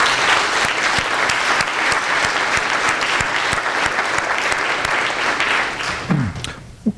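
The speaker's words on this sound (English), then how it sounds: "Can we give them a round of applause, please?" A steady round of applause from an audience of donors and guests at a business school scholarship reception, even and sustained, fading out at the end with a brief voice.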